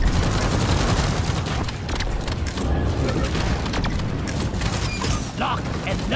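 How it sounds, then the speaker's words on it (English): Rapid automatic fire from a deployed sentry turret during a solo Engineer Elite Deep Dive in Deep Rock Galactic, a dense continuous rattle of shots mixed with booms and chaotic combat noise throughout. "One sentry gun, ready to be built. Ready to shoot."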